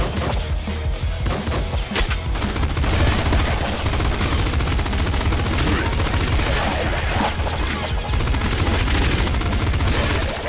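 The pop gun in the video game Nuclear Throne fires in rapid, dense volleys of sharp shots, loud and nearly continuous, with faint talk underneath.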